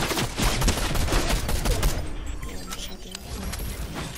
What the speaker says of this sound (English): It's an actual player shooting.